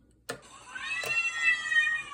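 A cat meow sample played from a keyboard sampler: a short click, then a drawn-out, rising meow with clear harmonics, heard alone.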